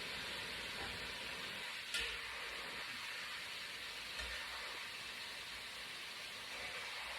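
Beef and vegetables sizzle steadily in a hot pan for birria tacos, a broad, even hiss with a stir clack near the start and a brief knock later, no talking.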